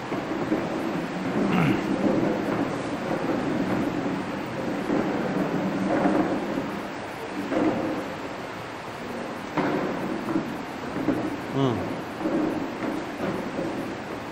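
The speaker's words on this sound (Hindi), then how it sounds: "बारिश शुरू हो गई तो थोड़ा सा आवाज।" Steady heavy rain pours down throughout, a dense, even hiss with low rumbling swells of thunder rolling underneath, continuous and fairly loud.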